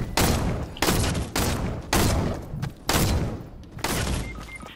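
Rapid bursts of Fortnite gunfire come in about six loud, close volleys spaced roughly a second apart, each a dense crackling barrage with thumping low end, with no speech over them.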